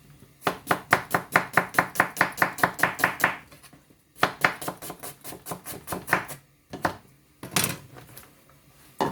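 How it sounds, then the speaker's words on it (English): Onions sliced with a knife on a cutting board, a quick even run of crisp close chops, a short pause, then another run and a few scattered cuts. "So you're going to slice all your onions"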